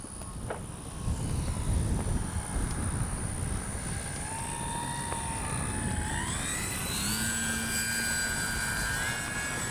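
An E-flite P-51D one-metre RC warbird on its maiden flight, a steady whining electric motor drone with pitch rising and falling as it passes, heard at a distance over outdoor wind noise.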